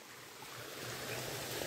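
Steady running water, a soft continuous trickle and gurgle of a mountain spring, close by and fairly quiet, with no voices.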